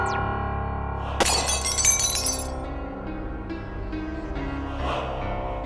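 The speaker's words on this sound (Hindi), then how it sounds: "कांच का पुतला टूटा, लेकिन कोई पत्थर नहीं, कोई तीर नहीं, कोई गोली नहीं" A glass mannequin shatters in a dramatic TV serial scene: a sudden bright crash of breaking glass, then tinkling shards and sustained, effects-laden tones ringing out afterward.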